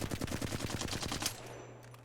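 A fast, steady automatic burst from a weapon in Apex Legends, about a dozen evenly spaced shots for just over a second, then it stops and a faint hum remains.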